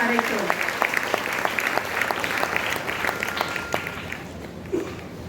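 Audience applause fills a stage event, with steady dense clapping throughout that thins slightly near the end, while a voice speaks over it.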